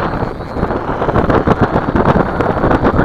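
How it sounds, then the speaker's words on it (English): Strong wind buffets the microphone of an FY326 quadcopter flying high on a windy day, a dense, continuous roar with gusty pulses and no talk. "The wind's even stronger up high."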